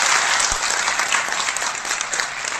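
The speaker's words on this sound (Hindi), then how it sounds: "तालियां आपको बहुत जरूरी है, एक बार मिलके यहाँ से वहां तक बजाओ" A crowd at a kavi sammelan poetry gathering claps loudly and continuously, a thick wash of applause holding steady with a sharp thump early on and no talking over it.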